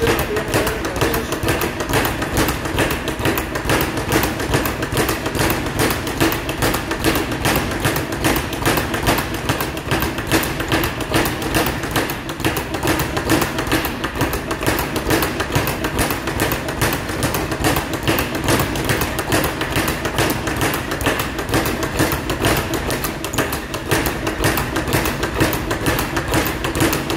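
A speed bag being punched in steady practice, a fast, relentless rattle of rebounding thuds that repeat at an even rapid rhythm throughout, close and loud.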